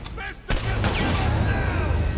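Gunfire in Saints Row IV, a burst of loud shots and booming impacts erupting after a brief quieter moment, then a dense sustained barrage.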